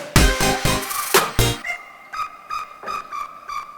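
A bright electronic lead melody of short repeated notes, preceded by a brief burst of punchy percussive hits, close and fairly loud.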